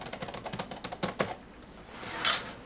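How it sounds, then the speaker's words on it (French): Fingers type on the firm keys of an Eclipse Wireless Litetouch keyboard, a quick run of a dozen or so crisp clicks, then a pause before one softer brushing sound. "Sur le clavier Eclipse, les touches sont assez fermes et nécessitent un petit effort."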